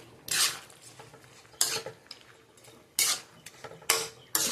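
A spoon scrapes and stirs fried chicken pieces around a pan in a home kitchen, five loud, close, gritty strokes at uneven intervals with quieter rustling between them and no voices.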